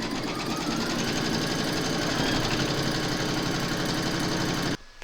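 An embroidery sewing machine runs steadily at close range, its needle hammering in a fast, even mechanical rhythm while it stitches a placement outline, then it stops abruptly just before the end.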